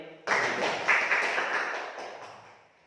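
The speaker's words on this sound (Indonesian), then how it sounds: "Tepuk tangan dulu buat Pak Haji." A microteaching classroom of students claps for a classmate who has just presented on five-kingdom classification, a short burst of applause that starts abruptly, peaks briefly and fades out within a few seconds.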